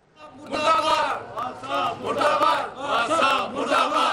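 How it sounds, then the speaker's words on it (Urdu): Protesters from Gulshan Riaz Band Road chant slogans against WASA over a broken sewerage system, a crowd of voices rising and falling in repeated loud bursts, close and continuous. "واسا کے خلاف نعرے بازی کرتے مظاہرین"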